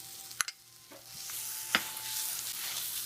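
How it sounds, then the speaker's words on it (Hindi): Dal and spices roasting in a pan over low heat with constant stirring, a gentle sizzle broken by a few sharp spoon clinks against the pan and quiet scraping, no talking. "दाल डालकर हम इसको लगातार चलाते हुए मसाले को भूनेंगे।"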